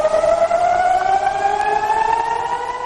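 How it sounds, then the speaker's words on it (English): Air raid sirens sounding in northern Israel, a sustained rising wail with several steady harmonic tones that slowly climbs in pitch, loud and continuous with no voices. "sirens sound in its north."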